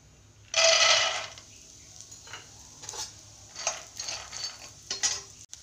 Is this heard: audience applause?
no